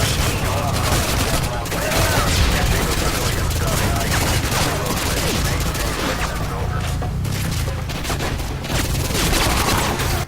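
Dense firefight in Modern Warfare 2, nonstop loud rifle and machine-gun bursts layered with booms, filling the whole stretch without a break, with voices buried under the shooting.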